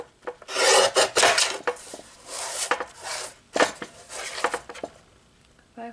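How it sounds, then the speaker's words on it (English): A guillotine trimmer cuts paper in a series of quick scraping, rasping strokes, close and crisp, separated by short pauses. "I'm just doing everything square cut with my guillotine trimmer"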